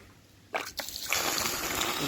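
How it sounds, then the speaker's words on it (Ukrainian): Water poured from a small bucket onto ground rock salt, cheap food-grade table salt, being diluted for a swimming pool: a couple of quick splashes, then a steady close sloshing pour that continues to the end. "Зальємо водичкою."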